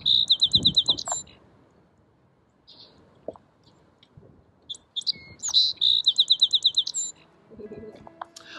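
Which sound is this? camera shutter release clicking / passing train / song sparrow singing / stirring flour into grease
song sparrow singing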